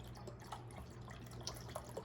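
Vodka is poured for homemade amaro as a faint, quiet trickle with scattered small drips and splashes against soft background noise.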